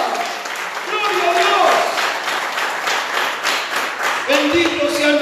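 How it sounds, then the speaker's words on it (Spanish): A church congregation claps along loudly and steadily throughout, a dense wash of hands with crowd voices mixed in, and a sustained sung or called note rising over it near the end. "Dale un fuerte aplauso a Jesucristo"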